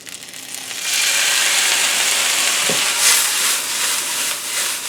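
Lemon juice hits quinoa in a hot pan and sets off a loud, steady sizzle that swells after a second and keeps hissing close up, with one soft knock partway through.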